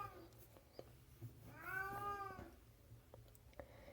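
A house cat lets out a drawn-out meow, fairly quiet and close indoors, amid faint clicks and rustling.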